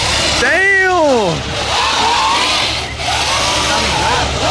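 Straight-piped Corvette Z06 engine revving at a car meet, a loud sweeping rise and fall of engine pitch followed by more rumbling revs, with people talking over it.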